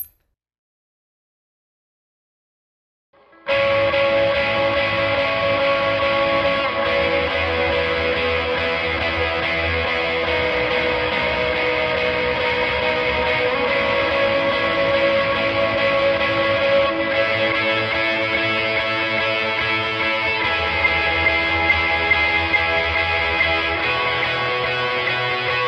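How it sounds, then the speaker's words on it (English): An electric guitar runs through two overdrives, a dotted eighth delay and reverb, playing a worship song. After a few seconds of silence it enters as a sustained, distorted, shimmering wall of tone. "And we're going to have our tone with both overdrives, our dotted 8th delay, and reverb"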